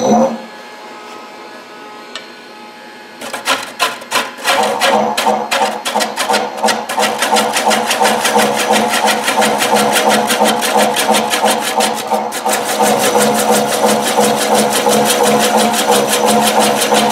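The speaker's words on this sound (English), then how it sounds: "You can hear it, the rotation of the motor" A wood lathe motor spins steadily while a large platter is turned, a continuous close rattling hum with fast repeating ticks that starts after a quiet opening and then runs loud throughout.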